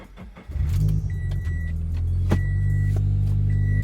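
A Mitsubishi Evo idles and rumbles close by as it is driven out of a workshop, its engine note steady after a brief start, with a few faint high tones over the low drone.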